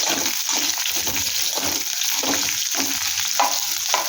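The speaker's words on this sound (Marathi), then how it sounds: "कांदाही चांगला भाजून घेऊ." Onion frying in a pan for a chicken masala, a close, steady sizzle broken by rhythmic scraping strokes of a spatula stirring through it.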